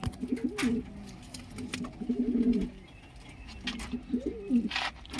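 Pigeons in a loft coo in soft, throaty, rolling bursts close by, several overlapping calls recurring every second or two over quiet background rustling, with no talk.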